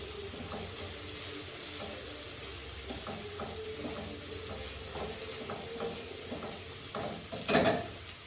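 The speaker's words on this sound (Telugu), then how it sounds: "ఇప్పుడు దీన్ని బాగా ఫ్రై చేసుకుందాం" Onion mixture with chili powder and turmeric fries in a pan for an egg dish, a steady close sizzle with soft scraping stirs and one louder clatter near the end.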